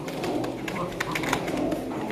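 A pair of pigeons, a male and a female offered for sale, coo softly amid steady background noise and scattered clicks.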